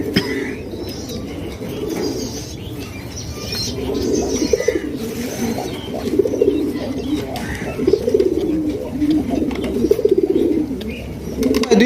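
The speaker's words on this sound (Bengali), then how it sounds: "বন্ধুরা এইখানে রয়েছে খুবই সুন্দর একজোড়া কিং কবুতর ভাই, লাল গিয়ারের একজোড়া কিং কবুতর মাশাআল্লাহ" A pair of red King pigeons cooing, soft repeated throaty coos close by against a busy pigeon market background with faint other birds.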